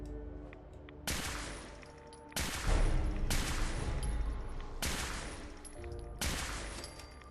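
Kiloton Rifle firing in Fallout 4 Far Harbor, a series of about five heavy booming shots spaced roughly a second apart, each with a sharp crack and long rumbling tail, loud and close.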